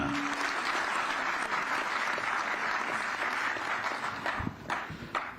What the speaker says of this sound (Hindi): इसीलिए मैं आपकी जोरदार तालियों के साथ बुलाना चाहता हूं